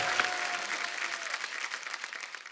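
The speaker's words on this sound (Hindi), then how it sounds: "इनके लिए जोरदार तालियां हो जाए।" A studio audience at a comedy talk show bursts into brief, dense applause, a continuous crackle of many hands at moderate loudness.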